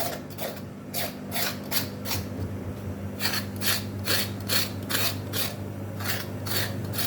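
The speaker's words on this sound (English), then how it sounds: "Scrape the top part." A knife scrapes the ridged skin of a ridge gourd in a rhythmic run of short, close rasping strokes, about a dozen in all, over a steady low hum with no talking.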